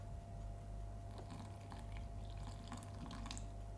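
Fifty grams of water poured into a sourdough starter, a soft continuous trickle over a steady low hum, close and fairly faint.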